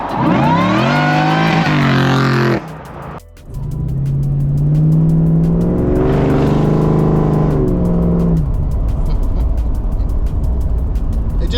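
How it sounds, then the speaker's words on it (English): Supercharged Terminator-swapped Mercury Capri engine revving hard, loud and close, with a high blower whine riding over the exhaust through repeated climbs and drops in pitch and a brief dip between revs. "I want more of that blower whine"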